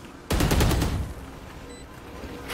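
A short, loud burst of rapid gunfire in the tactical shooter Valorant, several shots fired close together, then fading into quiet game ambience.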